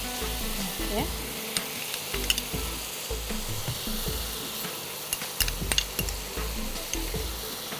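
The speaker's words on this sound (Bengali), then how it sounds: "পাঁচ ছ কোয়া রসুনের পেস্ট রয়েছে রসুনটাও পুরোটা দিয়ে দাও" Onion and garlic paste sizzling and frying in a pan for a prawn curry, a steady loud crackle with occasional stirring scrapes throughout.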